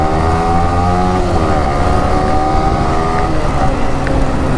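A BMW S1000RR sport motorcycle engine runs loud and close, a dense steady roar with rising and falling harmonics as the throttle is blipped, continuous for the whole stretch.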